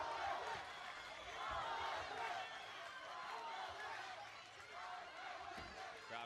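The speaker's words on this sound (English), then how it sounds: "Crowd coming alive here for Ozdemir." Crowd at a KOK kickboxing event in Turkey rumbles and cheers steadily throughout, with scattered claps and shouts, while a commentator talks over the noise.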